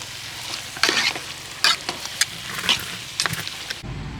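Tiger prawns coated in chili powder frying in a pan, loud continuous sizzling with several sharp stirring scrapes, then cutting off abruptly near the end.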